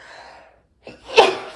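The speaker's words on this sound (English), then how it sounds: "I've got to sneeze" A single sneeze with a sharp inhaled gasp before it, then a quick explosive burst, close and fairly loud after a brief trailing breath.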